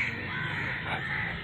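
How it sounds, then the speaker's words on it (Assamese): A group of crows caw harshly and repeatedly by the Brahmaputra river, moderately close, over a steady wind noise. "কাউৰী এক খোপা এনেকৈ চিঞৰি আছে"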